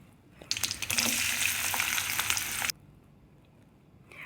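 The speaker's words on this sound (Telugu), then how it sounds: "ప్యాన్లో ఆయిల్ వేసుకొని ఆవాలు, జీలకర్ర, పచ్చిమిర్చి కూడా వేసుకొని కాస్త వేగినాక సన్నగా తరిగిన ఉల్లిపాయలు కూడా వేసుకోవాలి." Finely chopped onions hit hot oil already holding mustard seeds, cumin and green chillies, bursting into a loud, close sizzle that lasts about two seconds before cutting off abruptly.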